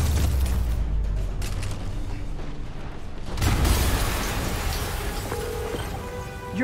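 A deep, rumbling explosion in the Spider-Man PS4 game, a heavy low boom fading into a long roaring wash of debris and noise, with a second swell partway through.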